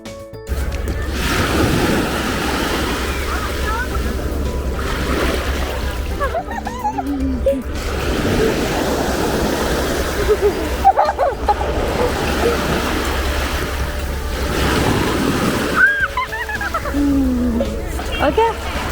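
Ocean waves breaking on the beach at Fuengirola, Malaga, on a cold rainy day, washing surf and wind buffeting the microphone, with a person talking over the water throughout.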